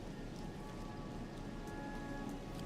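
Soft, steady rainfall patters in Elden Ring, a faint, even hiss of drops falling throughout, with no voices.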